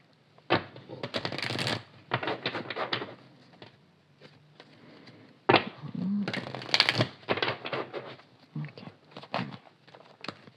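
Tarot cards shuffled and dealt out for a seven-card sentimental reading, with bursts of crisp riffling and slapping snaps in several separate runs and short quiet gaps between them, close and fairly clear with no talk.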